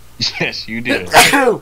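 A single sharp sneeze bursts out near the end, with people talking just before it in a casual indoor recording.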